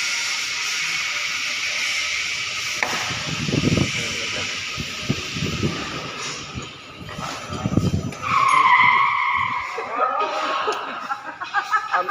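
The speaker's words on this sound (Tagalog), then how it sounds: "Ang lakas ng preno." Newly assembled golf cart braking hard, its brakes giving a loud, close squeal that rises around the middle of the clip over a steady background hiss, with some voices heard around it.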